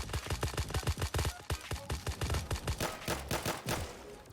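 Rapid gunfire in the mobile shooter Hyper Front crackles in a quick, steady stream of sharp shots, dozens of closely spaced bangs at moderate level with no talk over them.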